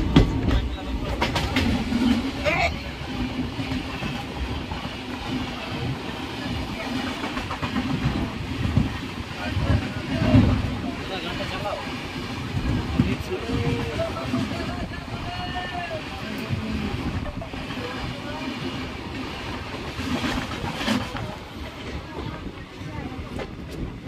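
A special passenger train rolls along the tracks on the way to the Maha Kumbh, giving a continuous low rumble and rattle of carriages, with people talking over it the whole time.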